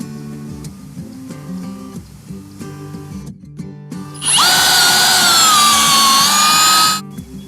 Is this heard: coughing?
no